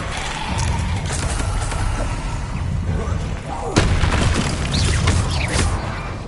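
The Revelio revealing spell is cast in Hogwarts Legacy as a loud, dense rumble of game effects, with a sharp burst near the middle and crackling bursts after it, over a constant low roar.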